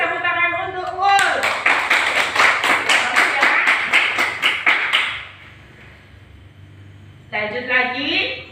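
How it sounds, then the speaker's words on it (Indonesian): Classroom clapping during a school teaching practice session: about four seconds of rhythmic, fairly close hand claps, with someone speaking before and after. "Kasih tepuk tangan untuk Ul."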